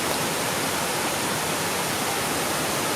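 Steady, dense roar of falling water at Kaang waterfall, loud and unbroken throughout, with no voices.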